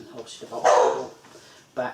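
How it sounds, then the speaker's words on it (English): A dog barks loudly once at close range, then a second shorter bark follows a moment later, while someone talks over the start. "Sorry about that dog, it's a pain in the arse."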